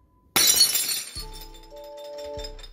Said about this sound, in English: Heard glass breaking.